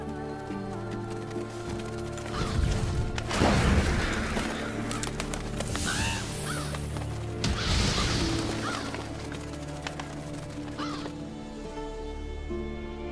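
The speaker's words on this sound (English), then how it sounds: "Seems the black birds are the culprits. Revoltures. They're scavenger birds that enjoy large monsters' leftovers." Black Raevolture scavenger birds in Monster Hunter World's Witcher 3 crossover caw and screech in a flock, with bursts of wingbeats and calls swelling twice over a steady game ambience.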